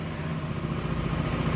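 A well-digging machine's engine idles steadily in the background at a rural well-drilling site, a continuous low rumble with a faint hum, moderately loud and unbroken, with no talk over it.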